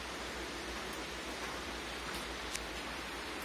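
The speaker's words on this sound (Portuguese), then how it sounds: "E a chuva chovendo. Que maravilha." Rain falls steadily near a cattle corral on a morning, a dense, even hiss of drops with no pauses and no voices, fairly faint.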